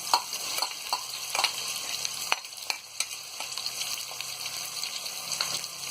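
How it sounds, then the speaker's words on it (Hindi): Onions fry in a hot pan for a chickpea pulao, a steady oily sizzle broken by a few sharp stirring scrapes and clicks of a spoon, close and clear with no voices. "प्याज को हम गोल्डन ब्राउन होने तक फ्राई करेंगे।"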